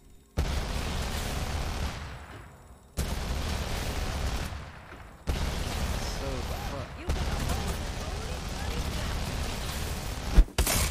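Rapid bursts of automatic gunfire in the Apex Legends battle royale game, several loud sustained volleys separated by brief gaps, ending with a sharp single crack.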